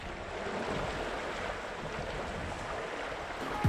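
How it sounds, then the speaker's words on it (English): Wind and rolling swells surround a Windrider 17 trimaran sailboat during a Texas coastal crossing, a steady broadband rush of wind buffeting and water wash, fairly faint and continuous, with no voices. "The wind picked up, and with that came the rollers."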